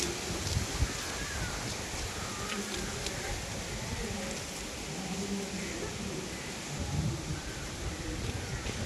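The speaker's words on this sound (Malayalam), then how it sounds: "നല്ല അടിപൊളി കാറ്റ്, നല്ല സുഖം ഇവിടെ അങ്ങനെ കാറ്റുകൊണ്ട് നിൽക്കാൻ" Strong wind blows outdoors during rain, a continuous broadband roar and rush with gusts rising and falling, fairly loud and steady throughout.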